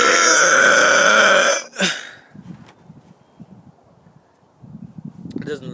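One long, loud burp rings out up close for under two seconds, followed by quiet rustling and soft breathing noises.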